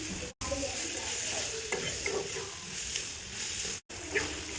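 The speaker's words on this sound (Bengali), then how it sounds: "এবারে ভালোভাবে মশলার সঙ্গে মিশিয়ে নেবো।" Chicken skin frying with spices in a pan and stirred, giving a continuous near sizzle with soft scraping movements, briefly cut to silence twice.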